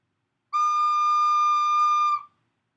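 A recorder sustains a single steady, gentle note for about a second and a half, played alone with a clean tone and a soft release.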